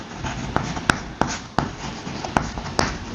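Chalk or marker writing on a classroom board during a lesson on triangles, sharp taps and short scratchy strokes in an uneven rhythm, close and clear with no speech over it.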